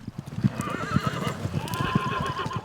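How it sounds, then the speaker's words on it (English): A herd of frisky horses whinnies repeatedly on a frosty May morning in western Colorado while their hooves clip-clop in a steady, close rhythm as cowboys bring them in and sort them. "May mornings in western Colorado start off frosty, and the horses are frisky."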